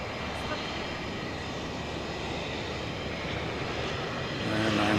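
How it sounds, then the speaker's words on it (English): An American Airlines Airbus A321 jet at DFW Airport at night gives a steady, broad engine roar that holds at constant strength and swells slightly near the end. "It's an American Airlines Airbus A321."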